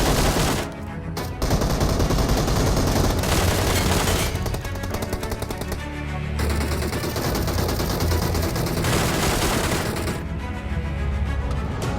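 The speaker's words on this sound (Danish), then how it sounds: "Der blev skudt foran os." Sustained automatic gunfire from PUBG Mobile, loud and dense across the whole stretch, with rapid bursts and short gaps, the shots near and overlapping with no talk over them.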